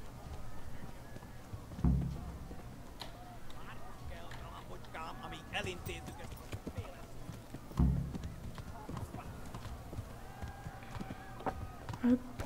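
Hooves clip-clop along at a steady pace, with a few louder thumps standing out, while people talk over the sound.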